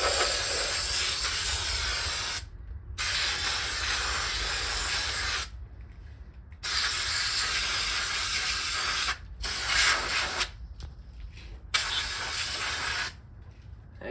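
Aerosol brake cleaner from Harbor Freight sprays in several long, loud hissing bursts, separated by short silent pauses, close to the can.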